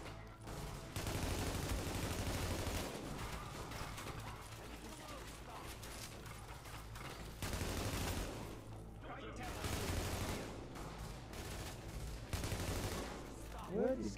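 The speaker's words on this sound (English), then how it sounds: "Where is this guy shooting at, fam?" Gunfire in the video game The Division comes as sustained bursts of automatic fire and scattered shots, loud and repeated across the whole stretch, with pauses between volleys.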